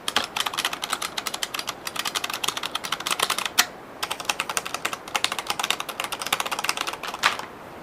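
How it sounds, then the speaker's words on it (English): Fast typing on an IBM Model M buckling-spring keyboard, a dense run of loud, sharp clacks in quick bursts with a couple of brief pauses and a heavier key strike midway. "with the Model M,"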